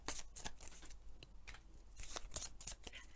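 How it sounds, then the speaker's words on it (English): A deck of playing cards is shuffled together during a four-player tabletop game of Vindication. Quick, crisp riffling bursts repeat in an uneven rhythm, quiet and close. "shuffle them all together"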